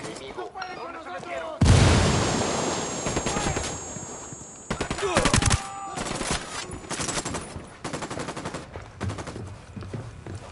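Gunfire in Ghost Recon Wildlands: bursts and rapid automatic volleys, a loud boom near the start, then repeated crackling shots at varying distance, with voices speaking over parts of the exchange.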